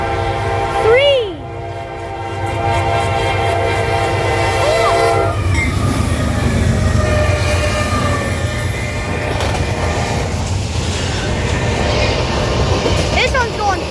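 A westbound Norfolk Southern intermodal freight train with three locomotives up front passes fast in O'Fallon, Missouri, blowing a loud, sustained horn while rail noise rumbles steadily beneath, continuing throughout.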